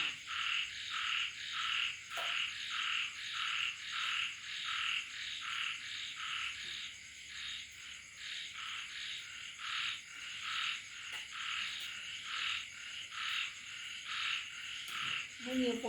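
A dense chorus of small frogs croaks in rapid, pulsing repetitions throughout, steady and fairly close, with faint night insects underneath.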